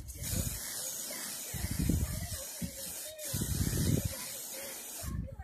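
Hairspray aerosol can sprayed lightly from a few inches away in several short hissing bursts, with a quiet voice speaking between them.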